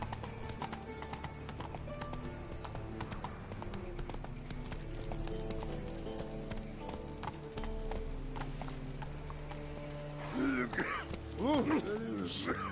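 Roach, the horse in The Witcher 3, gallops with a steady, rhythmic clip-clop of hooves under a continuous game soundtrack, with voices speaking over it near the end.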